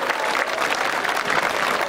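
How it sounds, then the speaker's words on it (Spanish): Dense, steady applause from a crowd at an outdoor Mass on Cerro Tecamachales, sustained and fairly loud throughout. "Un caluroso aplauso a todos los tecamachales."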